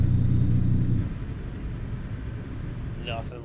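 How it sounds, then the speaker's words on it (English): A heavy truck engine in American Truck Simulator, in Texas, rumbles loudly, swelling briefly as the throttle is pressed, then eases back to a lower steady idle drone, with a faint whistle near the end. "We'll rev her up a little bit here"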